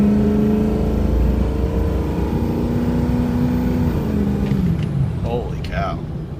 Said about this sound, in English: Definitely broke the tires loose.